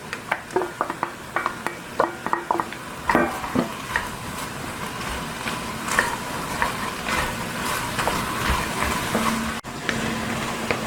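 Pork with chopped celery, onion and carrots sizzles steadily in a soup pot while a spoon stirs and scrapes, giving irregular clicks and knocks against the metal over a continuous frying hiss.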